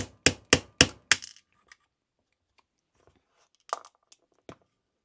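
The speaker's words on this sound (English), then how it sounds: "now we'll take our 5/32 punch. Remove the rear bush, the upper grip screw bushings." A 5/32 punch is hammered to drive out the upper grip screw bushings on a Staccato CS pistol: four sharp, evenly spaced metallic taps in quick succession, then faint scattered clicks and two softer knocks.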